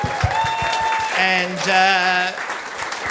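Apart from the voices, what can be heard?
audience applause for Alex J at live podcast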